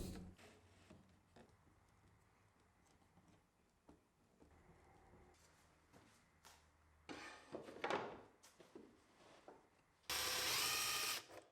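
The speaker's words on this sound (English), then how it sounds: "I drilled out everything and then screwed them down" A power drill whirs in short bursts amid workshop clatter and thunks, ending with a loud, sustained high-speed drilling run.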